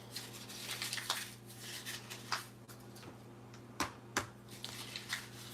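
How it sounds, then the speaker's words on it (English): A paper bag is crumpled by hand over a steady low hum, giving a run of dry, crackling rustles with several sharper crinkles, close and moderately quiet. "Okay, so I'm going to crumple this up again."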